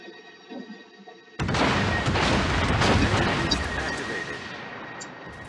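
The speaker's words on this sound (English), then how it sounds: "Concentrate fire on the enemy warship" Heavy naval gun salvo from a warship in the World of Warships game erupts after a quiet opening, a loud sustained booming roar that slowly decays, with faint background hum before it.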